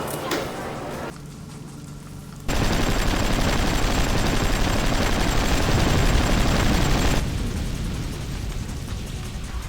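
Mounted truck weapons fire in the vehicle combat game Hard Truck Apocalypse, a loud, sustained burst of rapid gunfire with engine noise beneath it that runs for several seconds, then gives way to a lower rumble.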